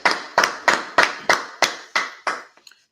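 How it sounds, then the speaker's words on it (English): Hands clap about eight times in a steady, evenly spaced rhythm, loud and close, with the last claps fading out. "Clap it up, clap it up, clap it up."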